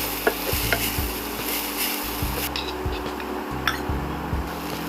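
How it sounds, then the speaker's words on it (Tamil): Vegetable momo stuffing sautéing in a pan gives a steady close sizzle broken by repeated rhythmic scraping strokes of a spatula stirring the mixture, with no talking. "ஓவர் குக் ஆகக்கூடாது, லைட்டாக வதக்கினா போதும்."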